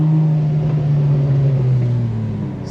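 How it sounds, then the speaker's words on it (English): Porsche 996 GT3 engine drones loudly and steadily for a few seconds, a close, sustained low hum that eases slightly at the end. "just get some good sound going from the car"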